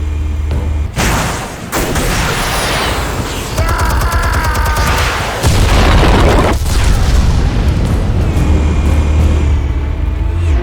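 Armed explosives detonating in Batman: The Telltale Series, a loud sustained blast with crackling bursts and heavy booming rumble that carries on for about ten seconds, with no speech.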